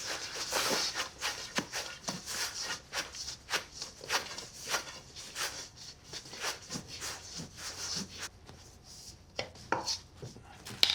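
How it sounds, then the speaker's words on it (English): Sourdough starter dough is pushed and blended by hand in a bowl, giving repeated soft wet slaps and thuds in an uneven rhythm, close and fairly steady throughout with no talk. "I just push it in with my hand, just blending everything together."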